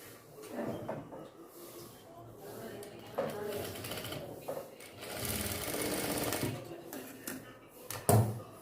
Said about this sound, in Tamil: டாப் ஸ்டிச் போடுவோம்ல, அதே மாதிரி ஸ்டிச் போட்டுக்குவோம்.